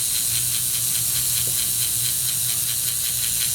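A small Marx 666 toy steam engine's electric motor runs steadily after a drop of oil, giving off a continuous high whirring hiss with a faint low hum beneath and a light rhythmic mechanical chatter, alone and close.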